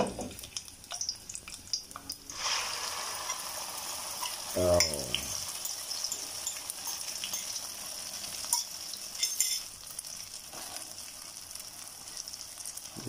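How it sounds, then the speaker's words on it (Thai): Garlic frying in hot oil for a Thai shrimp chili paste, a steady close sizzle and crackle running throughout with a few clanks of a utensil and brief bubbling splashes, under occasional talk. "ใส่น้ำมันทอดใส่กระเทียมมันเดือดแล้วเพิ่มความหอมเข้าไป"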